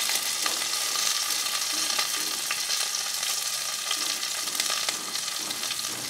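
Green chillies and raw tomato frying in a pan for a Bengali pui shak posto dish, a continuous dense sizzle with occasional stirring clicks, close and steady throughout with no talk.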